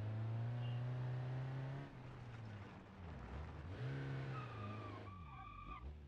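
A small city passenger car driven across sand in BeamNG.drive, its engine droning steadily with a low hum that dips and climbs as the wheels churn, accompanied by tyre scrabbling and squealing, close and continuous with no talk.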